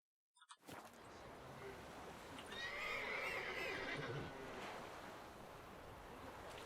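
A horse whinnies in The Witcher 3: Wild Hunt, a drawn-out neigh over steady wind and surf-like ambience, after silence at the start.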